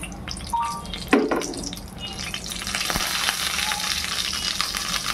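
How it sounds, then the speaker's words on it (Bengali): Eggs fry crisp in hot oil, giving a steady close-up sizzle and crackle, with a brief utensil clink near the start and no talking. "একদম কড়া করে ভেজেছি, এ দেখো কেমন করে ভেজেছি।"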